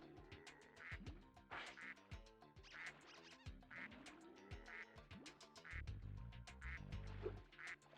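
Cartoonish duck quacking in Spyro 2: Ripto's Rage!, a series of nasal quacks repeating roughly every second over game music and sound effects.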